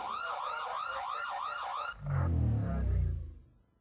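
A wailing siren cycles rapidly for two seconds, then gives way to a louder, low rumbling engine-like roar that fades out.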